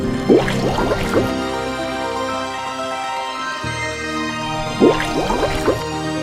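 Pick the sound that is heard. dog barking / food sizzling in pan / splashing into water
splashing into water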